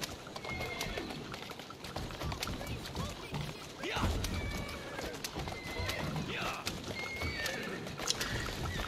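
Horses whinny and neigh in Assassin's Creed over a busy, clattering game soundscape with a steady wash of noise throughout.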